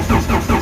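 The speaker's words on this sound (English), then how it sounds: "Just want to show you guys it's cranking healthily" A race car's engine cranks over and over without firing, the starter churning in a steady, loud rhythm of three or four even pulses close to the microphone.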